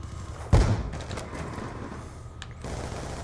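A single sharp, loud gunshot in a video game, followed by a quieter background of game ambience and faint distant sounds.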